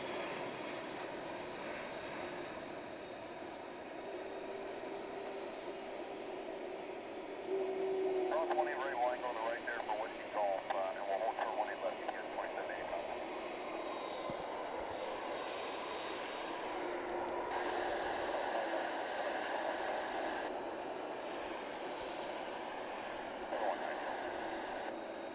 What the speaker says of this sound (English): American Airlines Flight 1395 is arriving now from Minneapolis, St. Paul.